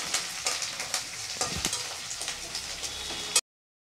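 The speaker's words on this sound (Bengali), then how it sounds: "তো একটু নেড়ে চেড়ে ভেজে নেব।" Onion, curry leaves, mustard seeds and dry red chillies stir-fried in hot oil for sambar dal, with a constant sizzle and repeated scraping stirs up close before an abrupt cut to silence.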